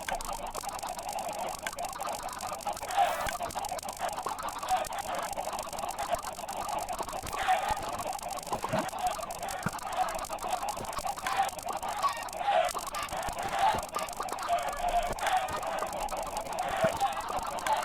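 Chickens cluck in the video game Minecraft: a dense flock of repeated clucks and squawks keeps going steadily at a moderate level with no talking.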